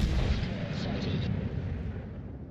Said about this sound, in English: I got a detonation